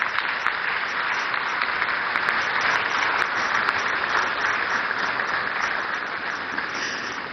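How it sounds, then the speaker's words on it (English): A conference audience at a Ghanaian national economic dialogue applauds in a steady, sustained round of clapping that holds at an even level for several seconds before easing slightly at the end. "If we can just support with a longer applause."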